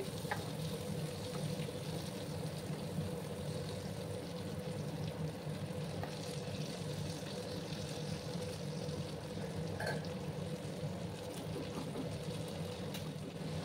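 Pointed gourd and potato pieces frying in oil in a pan make a soft, steady sizzle with faint crackles, low in level and continuous with no talking.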